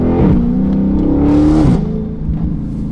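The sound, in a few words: V8 car engine revving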